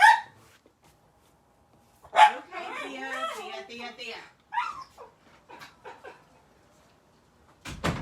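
Dogs in a home bark and whimper in short bursts, with a whine and several barks spread across the clip, mixed with someone speaking and a door or cupboard sound.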